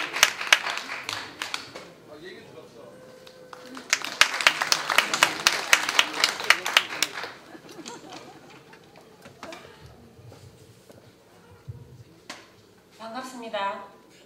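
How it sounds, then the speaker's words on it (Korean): Audience at a Korean party convention rally in Jeonju applauds to welcome a speaker, brisk clapping that swells in the middle and fades out, followed by a voice speaking into a microphone. "여러분 뜨거운 박수로 환영해 주시기 바랍니다."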